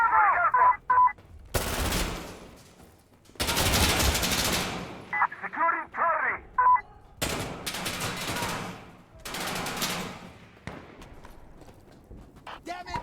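Rapid MP5 bursts in Insurgency Sandstorm: four loud, dense volleys of automatic fire, each lasting one to two seconds, separated by short gaps with faint beeping tones and quieter game noise.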